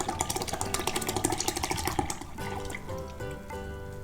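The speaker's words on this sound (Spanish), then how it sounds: "Voy a agregar toda la lata de Carnation." Carnation milk pours from a can into a blender with a rapid glugging, burbling stream for about two seconds, then trickles off into a softer liquid sound over a low hum.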